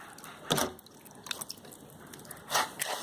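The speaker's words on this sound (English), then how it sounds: "So just add some water" Water is added to cocoa peat for a homemade grass ball mix with compost and soil. Faint, soft splashy drips come in two brief bursts over a quiet background.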